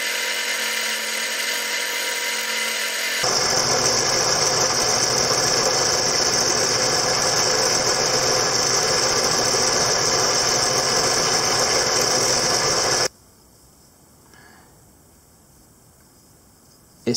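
A buffing wheel polishes a wooden tobacco pipe with white compound, giving a loud steady motor whine and rushing hiss that holds for about ten seconds, then cuts off abruptly.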